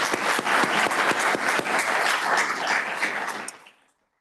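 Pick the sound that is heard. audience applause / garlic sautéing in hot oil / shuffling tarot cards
audience applause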